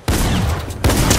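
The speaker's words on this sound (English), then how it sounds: "the shotgun is still doing its thing" Two loud, close shotgun blasts in Fortnite, each an abrupt booming hit with a short rumbling tail, spaced under a second apart.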